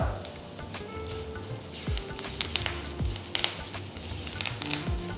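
Curry leaves and turmeric powder hitting hot oil in a pan for poha, a close crackling sizzle with a few sharp pops and brief clinks, fairly steady and moderate in loudness.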